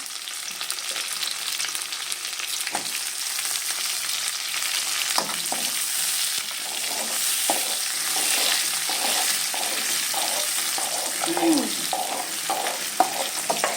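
Tomato frying in a pan for a simple potato and egg dish: a continuous loud sizzle with repeated spatula scrapes and stirs throughout, close up and with no one speaking.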